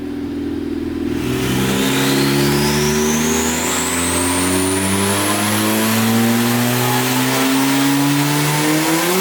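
A turbocharged Honda Civic engine revs hard and climbs steadily as VTEC engages, loud and close with a rising harmonic whine and no talk over it.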